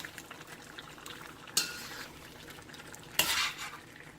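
Onion paste stirred into a pan over medium-low heat, with a soft steady background and two sharp scraping bursts of the spoon against the pan, fairly close and moderate in volume.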